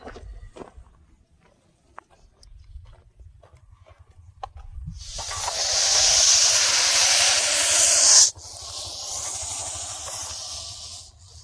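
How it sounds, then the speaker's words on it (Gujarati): A Russell's viper hisses in a loud, steady rush like a pressure cooker whistle. It starts after a quiet stretch, breaks off sharply for an instant, then resumes just as strongly. "આ કુકરની સીટી જેવું જ્યારે અવાજ કરે ને સ્પ્રિંગ જેવી ડિઝાઇન કરે ત્યારે એ અટકના મૂડમાં હોય"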